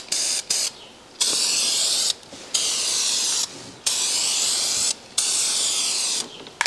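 Spray paint being laid onto a repaired rusted car fender for a heavier, wetter third coat: loud close hissing bursts of about a second each, separated by short pauses.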